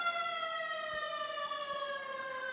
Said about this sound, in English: I love that Gananoque siren.